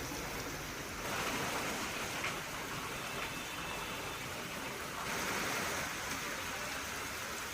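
Heavy rain pours down steadily outdoors, a dense, unbroken wash of hiss that swells slightly louder in a couple of spots.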